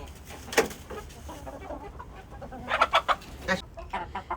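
Young chickens raised from day-old chicks cluck nearby in short, irregular bursts, with one sharp call early on and a quick cluster of clucks later, over a quiet background.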